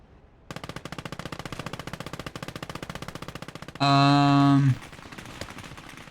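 Rapid machine gun fire from an MG crew in the Gates of Hell World War II strategy game, German winter offensive: a long steady burst of evenly spaced shots, loud and close, then a brief louder sustained blast before it trails off.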